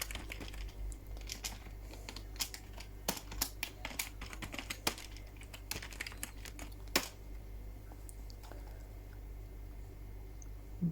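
A password is typed on a computer keyboard to log in to an email account, producing a run of soft, uneven key clicks that thin out after about seven seconds over a low background hum.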